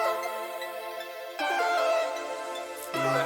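Layered synth melody parts and lead from an FL Studio beat, bright sustained chord tones that shift in three phrases with clear note changes, steady and moderately loud with no voices.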